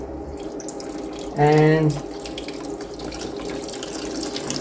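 Water runs steadily through an aquarium gravel siphon, a continuous trickling flow under a person's talking, with a brief louder tonal burst partway through.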